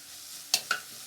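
Grated ginger stirred into frying okra in a pan, a quiet background sizzle broken by two quick, sharp scraping stirs close by.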